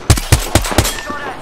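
Four rapid, loud shots ring out in a shooter video game, evenly spaced and punchy up close, followed by a short fading tail.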